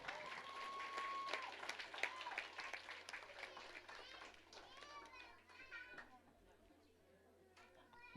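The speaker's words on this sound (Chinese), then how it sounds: "让我们热情的掌声。" Applause for children at a Christmas program in a church children's ministry, a moderate crowd clapping with children's voices and movement mixed in, fading toward the end.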